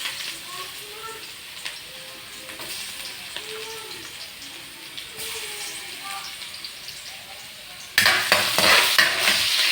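Garlic sautéing in a pan, a steady close sizzle with stirring scrapes throughout, growing louder and brighter near the end as the frying intensifies.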